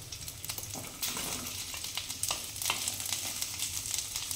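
Diced onion sautés in hot oil with ginger, garlic and chili, giving a steady close sizzle with occasional soft stirring scrapes and crackles, continuous and unbroken by talk.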